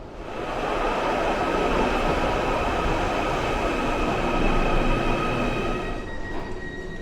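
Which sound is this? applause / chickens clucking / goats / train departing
train departing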